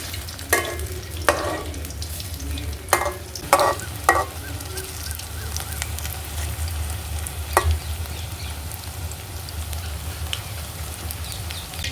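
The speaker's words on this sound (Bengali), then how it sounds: "আমি খুব ভালোভাবে উল্টে পাল্টে এই বড়াগুলো ভেজে নেব" Oil sizzles steadily as raw jackfruit fritters fry, close by, with a few sharp clicks and scrapes of a utensil turning them early on.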